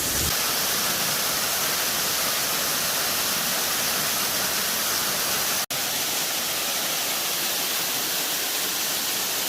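Fall Hollow Falls heard from behind the falling water: a steady, dense roar of cascading water that fills the scene evenly from start to finish, with no voices.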